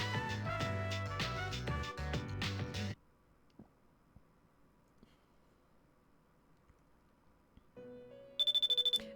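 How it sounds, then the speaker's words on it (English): A cell phone in Persona 3 Portable rings with a bright, repeating electronic tone near the end, after a stretch of quiet that follows loud game music. "Your cell phone rang."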